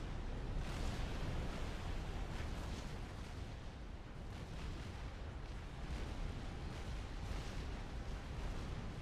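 Artillery fire across the map in the strategy game Supreme Commander: Forged Alliance Forever comes through as a continuous, distant rumble of overlapping blasts. It stays quiet and steady throughout, with no clear separate shots.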